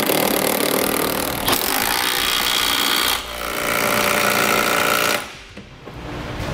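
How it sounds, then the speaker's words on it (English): A power tool drives and tightens hitch bolts on a 2004 Acura TL during a trailer hitch installation, giving a loud, continuous buzzing whir with brief dips between runs, close up and without talk. "Now we'll tighten down our bolts."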